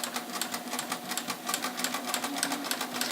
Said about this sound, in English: Alright, so I'm going to stitch that.